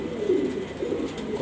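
Pigeons of a home-bred flock, including grizzles, coo softly and continuously, a low murmuring drone close by with no talk over it.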